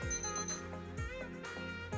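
A timer alarm rings during a teeth whitening session, repeating electronic beeping chimes in a regular pattern, about four bursts, clear and close with no talking.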